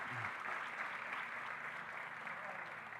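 A church congregation applauds in a continuous, steady wash of clapping that sounds somewhat distant and soft, with no breaks across the few seconds.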